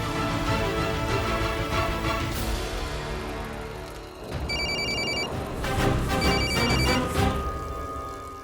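A telephone rings repeatedly in a TV drama scene, its bell-like trills standing out in bursts over a dense, loud music and ambient background, with no talking.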